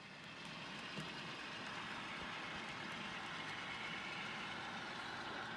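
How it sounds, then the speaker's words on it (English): Model train rolling across a bridge on a layout, a steady low rumbling and faint clicking hum that stays even and continuous throughout, quiet and without any talk. "here our train is coming across the Snohomish River Bridge"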